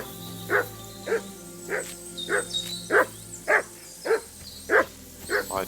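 A dog in Kingdom Come Deliverance 2 barks non-stop, about ten evenly spaced sharp woofs roughly every half second, close and clear over a low ambient hum.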